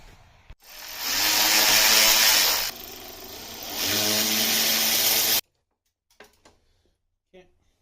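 A power tool whirs loudly and close while undoing bolts and nuts on a Polaris Trailblazer ATV, in two sustained runs with a brief dip between, then quiet clanks and handling noises follow.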